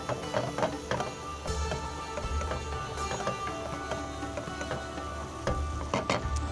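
Cumin seeds hit hot oil and get stirred for a Pakistani egg curry, giving a steady close sizzle broken by scraping, clinking stirs and a few sharp taps against the pan.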